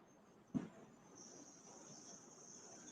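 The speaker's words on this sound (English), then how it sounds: "Grasshoppers." Grasshoppers outdoors give a faint, continuous high-pitched buzzing drone that persists throughout, with one soft low thud early on.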